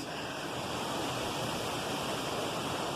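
A waterfall in Costa Rica roars as a dense, unbroken wash of rushing water, loud and close throughout with no voices over it.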